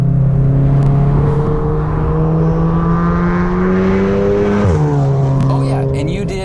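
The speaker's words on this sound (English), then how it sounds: "this is the best sounding 4-cylinder in the game" Four-cylinder engine of a VW Golf R in a video game, a steady loud drone holding pitch, then dipping sharply near the end as revs shift, continuous throughout.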